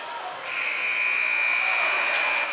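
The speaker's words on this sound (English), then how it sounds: "And the shot at the buzzer is no good." A steady electronic buzzer sounds at the end of the first half of a boys' high school basketball game, a sustained flat tone over crowd and gym ambience.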